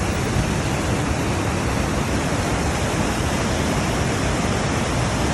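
The Loup of Fintry waterfall in full flow, a loud, unbroken roar of rushing water heard up close with no voices.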